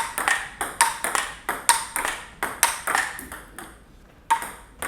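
Sharp, crisp ping-pong ball strikes off a Tibhar Swing IV-S carbon-inside blade repeat in a quick steady rally, about ten clear hits close by with no talking.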